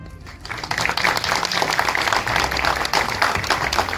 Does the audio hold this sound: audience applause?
yes